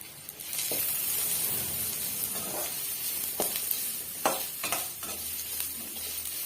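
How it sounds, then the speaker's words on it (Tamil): Garlic stir-fries in hot oil until crispy for garlic podi, a steady sizzle and hiss punctuated by several sharp scrapes and clinks of a spatula against the pan. "இந்த வெள்ளைப்பூண்டை பார்த்தீங்கன்னா நல்லாவே வந்து ஒரு மொறு மொறுப்பான பக்குவம் வர வரைக்கும் நம்ம வறுத்து எடுத்துக்கணுங்க"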